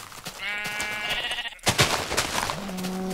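A Minecraft sheep gives a loud, close bleat with a wavering tone, followed by a sharp thump and shuffling, then a shorter second bleat near the end, with no one talking.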